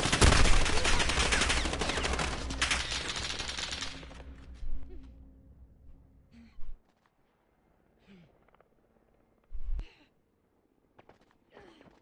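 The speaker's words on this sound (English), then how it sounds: "I'm taking fire from the rear." Gunfire in Call of Duty, a loud dense burst of rapid automatic shots for about four seconds, then fading into scattered distant pops and isolated single shots over quiet.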